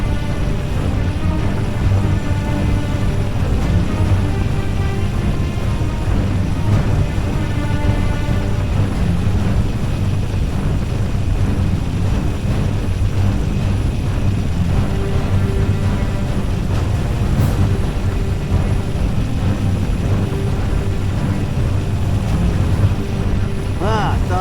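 A pilot's aircraft setting down for a landing in the video game Halo: Reach: a loud, steady engine drone with a deep rumble that runs unbroken throughout.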